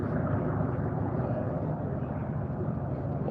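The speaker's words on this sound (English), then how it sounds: "So these are the mostly Mustangs, so they're mostly all the either Merlin powered or Allison powered V12." Reno unlimited air race planes, mostly Mustangs with Merlin or Allison V12 engines, fill the air with a steady, broad engine drone that holds at a constant level without breaks.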